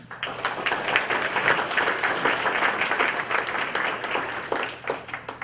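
A luncheon audience applauds an introduction at a community spotlight gathering, steady dense clapping filling the room at close range for several seconds, with no voices rising above it.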